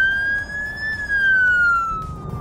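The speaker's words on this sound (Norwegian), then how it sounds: "Han ser meg ikke, da prøver jeg sirena." A Norwegian police car siren wails loudly and steadily, its tone rising gently and then sliding lower, with faint road noise underneath and no talk.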